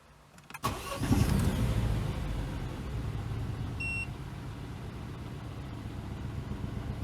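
A crashed Citroen DS3 cranks and fires with a sharp start, then settles into a low, steady idle with a rumbling vibration; a few brief beeps sound partway through, and nobody speaks.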